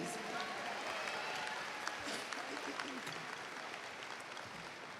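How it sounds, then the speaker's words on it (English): Graduation crowd at Western Hills High School claps for the choir, a full room of applause that stays strong throughout, with a few scattered voices faintly mixed into the clapping. "Let's give the choir another round of applause, please."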